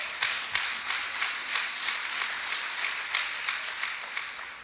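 A church congregation claps together at a Sunday communion service, steady rhythmic hand claps in a regular beat, fairly faint and somewhat distant.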